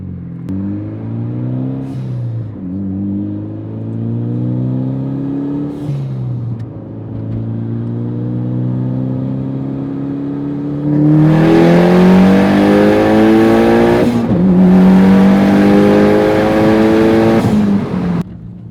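A Mitsubishi Lancer Evolution X engine revs hard through a full-throttle pull, its loud, rising drone climbing in pitch. It drops at each gear change and surges louder again toward the end.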